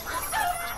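A brief, close chicken cluck from the video game Farmville 3 on Android, short and slightly nasal, heard alone.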